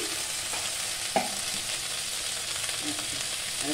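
Potato and papaya sizzle in a pan while being stirred, a steady close fry with a sharp scrape or clatter of the utensil near the middle and softer stirring scrapes later.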